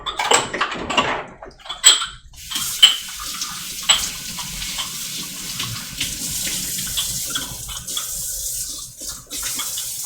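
Water runs steadily from a tap into a sink filling with hot soapy water, with a few clinks of items near the start, then a continuous close rushing flow.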